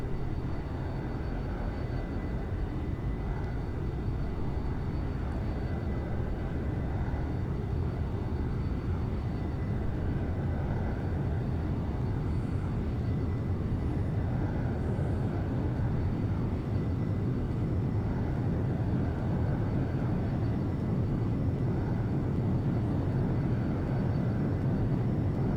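Roaring jet engine with afterburners lit at full throttle in the X-Plane 11 flight simulator, a steady, dense broadband rumble that holds constant and loud throughout with no talking.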